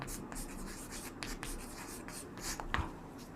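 Pen strokes scratch steadily across paper as someone hand-writes math formulas, with a busy run of short scrapes and taps and one sharper tap near the end.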